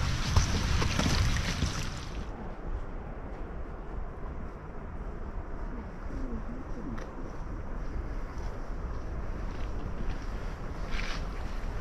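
A waterfall in the Brecon Beacons in winter gives a steady broadband rush of falling water, continuous and moderately loud, with a brief louder gust or handling noise at the start.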